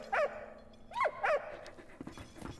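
A dog in the video game Valiant Hearts 2 gives three short, clear barks close up, followed by softer yips and whimpers trailing off.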